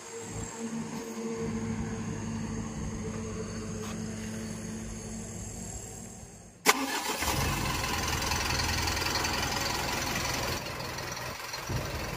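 A Mitsubishi Canter Euro 4 diesel truck engine cranks and catches at once, then settles into a steady, close, rumbling idle after a quieter lead-in.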